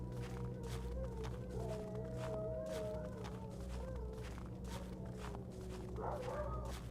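Sled dogs in the horror game That Which Gave Chase howl and whine in drawn-out, wavering calls over a low steady game ambience, with footstep-like thumps throughout and a louder cry near the end.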